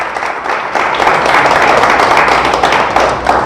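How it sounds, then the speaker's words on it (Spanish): A church congregation gives loud, sustained applause, a dense close wash of many hands clapping together at an even level with no talk over it. "¿Le damos un fuerte aplauso a Dios? Déselo fuerte, por favor."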